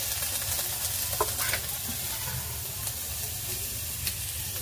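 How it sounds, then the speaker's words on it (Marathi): Onion, grated dry coconut and garlic cloves roast in a pan for a mutton curry, giving a soft steady sizzle broken by light scraping stirs, close and fairly quiet with no voice. "त्याला पण मस्त असं भाजून घेऊया"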